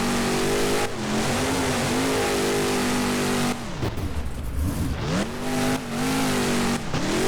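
Monster truck engine in the BeamNG game, revving hard during a beach freestyle run, with the pitch repeatedly rising and falling through throttle blips and loud, steady, close engine drone throughout.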